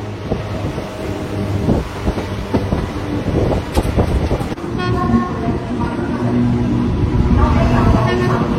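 An Intercity Express train pulls into Barrackpore station, a loud rumbling approach with wind buffeting and a brief horn-like tone, building steadily toward the end.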